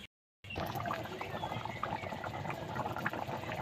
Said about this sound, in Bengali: এইদিকে তরকারিটা ফুটতে থাকুক